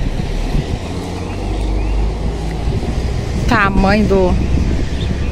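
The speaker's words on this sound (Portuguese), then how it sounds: "tá ventando bastante." Strong wind blows across a farm with a mango orchard and a silo, making a steady, full broadband roar that stays under a man's speech.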